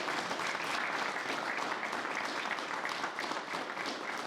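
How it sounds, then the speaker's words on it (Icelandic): Audience applause for the newly elected chairman of the Independence Party in Kópavogur, a steady wash of many hands clapping that holds evenly for several seconds at moderate distance. "Glæsilegt, gefið honum gott klapp."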